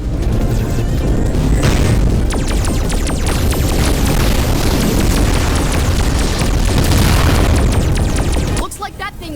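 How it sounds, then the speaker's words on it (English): Homing bombs in the Voltron VR Chronicles game go off in a long, loud barrage of booms and crackling bursts that fills the scene and cuts off abruptly near the end. "Looks like that thing's using some sort of homing bomb."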